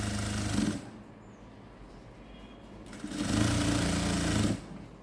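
A sewing machine stitching a patiala pant runs in two close, steady bursts, a short one at the start and a longer one after a quiet pause, with a loud even whirring and no talking.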